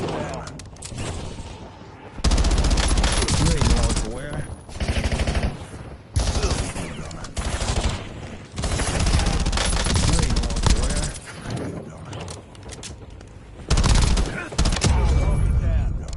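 Video game gunfire in long, loud bursts of rapid shots and fusillades, broken by short pauses, with a voice talking in between and over the shooting.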